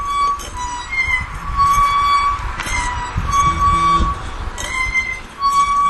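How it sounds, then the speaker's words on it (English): An old squeaky metal clothesline in a summer backyard gives repeated high, thin squeals in a loose rhythm, close and clear over a soft background. "That's the sound of your squeaky old clothesline"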